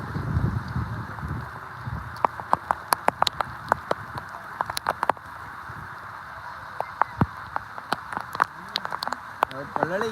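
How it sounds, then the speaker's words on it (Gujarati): Rain pours steadily onto hard surfaces nearby, with a constant hiss broken by frequent sharp, loud drop impacts and a murmur of voices early on. "ચાલો મિત્રો વરસાદ આવી રહ્યો છે"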